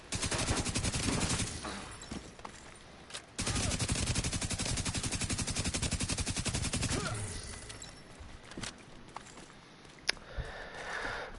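Sustained automatic gunfire in the game The Division 2, loud and dense rapid bursts pounding a called-out location for several seconds, then thinning to sparse scattered shots.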